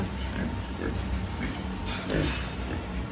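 Weaned piglets grunting and snuffling up close in a noisy pen with a two-level floor, with steady low grunts over a constant background hum.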